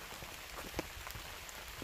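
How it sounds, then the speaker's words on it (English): Rain patters on a hiking trail, a faint, steady hiss of drops with scattered light taps and one slightly sharper hit partway through, no voices. "it has started to rain"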